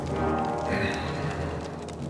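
Horse hooves clip-clop steadily in Kingdom Come Deliverance II, a medieval role-playing game, as the horses are brought, with a dense, continuous layer of game ambience running underneath.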